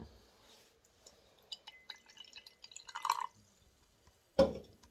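Monster energy drink, the Papillon flavor, poured into a glass: faint scattered drips and trickles, a short splashy pour in the middle, then one sharper clink of glass near the end.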